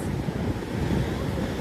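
Strong sea waves at Laomei Green Reef roar in a continuous close wash, heavily mixed with wind buffeting the microphone.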